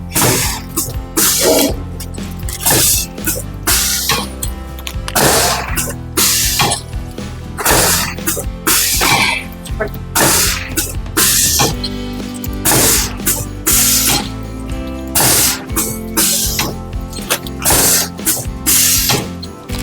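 An automatic masala packing machine runs with its stirrer and auger screw turning, giving loud, fast, repeated mechanical clacks and ratcheting knocks in a steady rhythm over a constant motor hum, close up.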